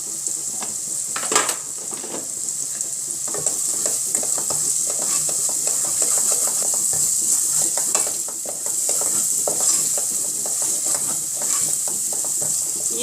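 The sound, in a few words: spices being stirred and roasted in a pan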